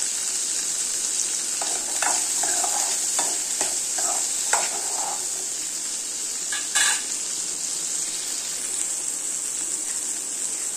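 Six garlic cloves drop into hot oil in a pan for tomato chutney, a steady bright sizzle with a few clattering stirs and scrapes near the start and one sharp knock midway.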